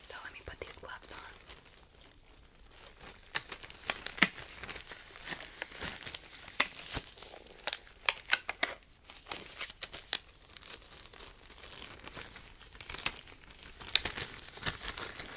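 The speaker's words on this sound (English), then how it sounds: "let me put these gloves on" Latex gloves being pulled on for a close-up face examination role-play, giving a long run of soft crinkling, stretching and snapping rubber sounds with sharp clicks, quiet and very close, with no talking.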